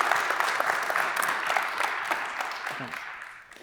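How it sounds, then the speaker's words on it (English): A conference audience at an energy-industry annual meeting applauds a panelist named Krieger, with sustained clapping from a full room that gradually tapers off, a few sharper claps standing out near the front. "Could we get a round of applause for Krieger,"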